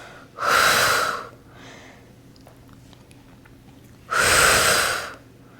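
Two strong, audible breaths during a pilates workout, each a rushing exhale lasting about a second, spaced a few seconds apart, close to the mic over a faint background hum.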